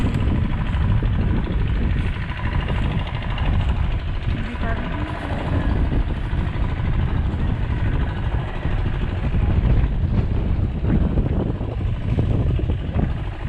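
Wind on a blustery day buffets the microphone in a continuous low rumbling roar with uneven gusting surges, steady and loud throughout, while a voice speaks underneath.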